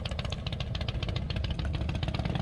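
A motorcycle engine putters steadily at low revs, a close, rhythmic chugging with a slight rattle and no voices.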